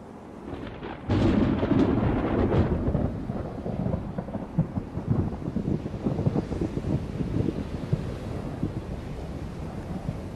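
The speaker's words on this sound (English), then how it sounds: "Throughout the summer, electrical storms roll across the desert, often shedding only drops of water." A summer electrical storm over the desert: a loud thunderclap cracks and then rolls into a long, rumbling decay, with wind-like noise continuing throughout and no voices.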